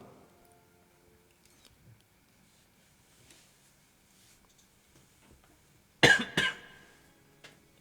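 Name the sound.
coughing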